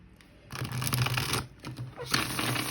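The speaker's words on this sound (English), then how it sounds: "I'm just gonna shuffle this deck over here" A deck of tarot cards being shuffled by hand: papery riffling bursts, a longer run of shuffling through the middle, a short pause, then another burst near the end, close and fairly quiet.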